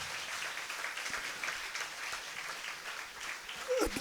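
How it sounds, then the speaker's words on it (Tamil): An audience at a state-level felicitation ceremony for differently abled achievers claps to welcome the arriving Speaker of the Assembly, a continuous, fairly faint and distant patter of many hands lasting several seconds. "தயவு செய்து எல்லாரும் கைத்தட்டி அவரை வரவேற்போம்."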